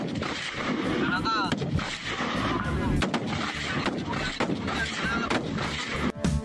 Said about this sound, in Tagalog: Kinareer ang paghawak at pagpapaputok ng baril.